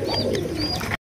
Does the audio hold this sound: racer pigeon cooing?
yes